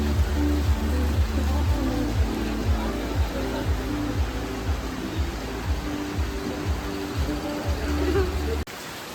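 Steady rain falls in the Konkan coastal region, a continuous broadband hiss that lasts throughout, with a low rhythmic rumble underneath, and drops off abruptly at the very end.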